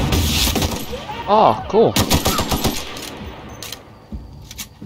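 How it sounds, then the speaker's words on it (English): Gunshots from The Outer Worlds ring out as a few sharp cracks amid bright metallic clinks and impact sounds. A player talks and exclaims over the shots. "If I shoot him in the leg."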